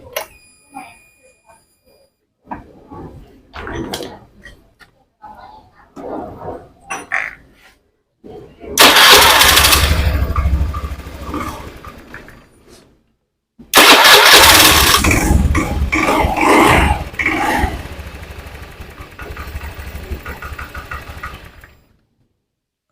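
A Honda Beat FI scooter that is hard to start and sputters, heard close up with a few quiet clicks and handling noises, then two loud cranking and starting bursts as the engine catches and runs roughly before cutting off.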